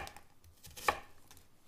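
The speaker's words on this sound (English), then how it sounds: "Next, chop up our cauliflower." A knife chops through raw cauliflower on a board for a roughly made soup, giving one crisp, close, fairly quiet cut alone in a quiet kitchen.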